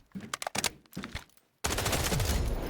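A gun firing in the Delta Force video game: a quick run of close shots, a brief pause, then a dense, loud, continuous stream of automatic fire.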